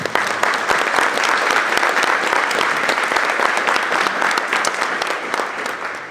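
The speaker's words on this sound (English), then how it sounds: "please join me in a round of applause thanking the group" An audience at a nonprofit advocacy breakfast applauds the hosting group, a loud, dense and sustained round of clapping that holds steady throughout and eases slightly at the end.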